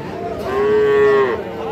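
A single long, loud moo from young cattle rises and holds for about a second amid a busy background murmur of a crowded livestock market selling small bulls and heifer calves.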